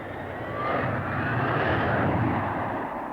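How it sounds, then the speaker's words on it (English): A Hawker Harrier jet with a Rolls-Royce engine roars steadily at a distance, its whine and rumble swelling slightly and then holding, with no voices. "The Harrier utilizes the enormous thrust of its Rolls-Royce engine, diverted through 4 controllable nozzles to move in any direction the pilot desires"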